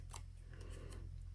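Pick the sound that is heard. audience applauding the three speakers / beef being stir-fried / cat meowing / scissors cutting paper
scissors cutting paper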